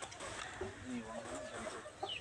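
Chickens, including a Rhode Island Red, cluck softly and intermittently in a poultry house, with low murmuring clucks over a steady background hum and a person's voice nearby.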